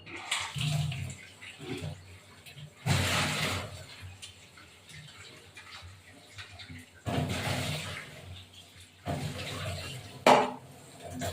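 Rohu fish pieces are washed by hand in water in a bowl, with bursts of sloshing and splashing separated by quieter pauses, close and moderately loud.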